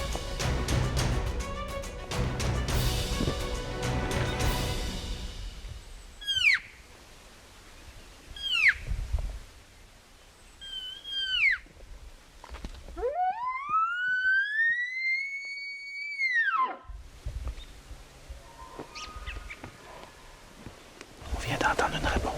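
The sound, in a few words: bull elk (wapiti) answering call in the distance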